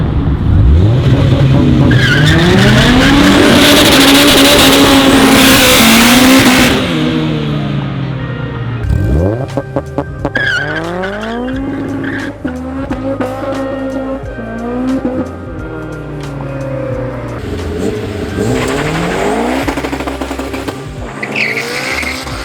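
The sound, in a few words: supercharged Honda S2000 launching with tire squeal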